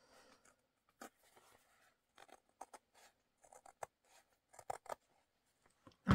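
Sharp scissors trim the edge of quilting fabric on a handmade junk-journal cover, giving a scattered run of quiet, brief snips and light scrapes with pauses between cuts, and one louder snip at the end.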